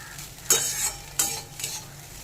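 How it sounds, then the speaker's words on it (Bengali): Fish roe and bitter gourd fry in a pan with a continuous sizzle, punctuated by a few sharp stirring scrapes and clinks of a spatula, close and with no talk. "আর উচ্ছেটাও ভাজা হয়ে গেছে"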